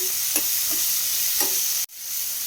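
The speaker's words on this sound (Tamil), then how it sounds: "இந்த தக்காளி சேர்த்து கொஞ்சம் நல்லா வதக்கிக்கலாம்" Tomatoes sautéing in a pan for chutney give a steady, close sizzle with a few faint stirring scrapes. The sizzle cuts out briefly near the end and then resumes. No one speaks.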